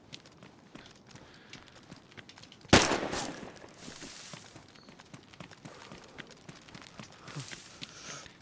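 A single loud gunshot in the video game DayZ, a sharp crack that rings out and decays, set against quiet footsteps and faint background movement.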